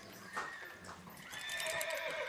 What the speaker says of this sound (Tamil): குதிரை இங்க இருந்து ஓடி வரும்.